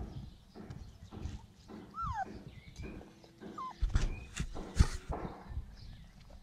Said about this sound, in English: It's feeding the puppies.